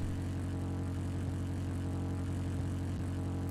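A car exhaust in the video game The Crew Wild Run gives a steady, low engine rumble without a break, its deep tone holding even and unchanging, like a motor idling close by.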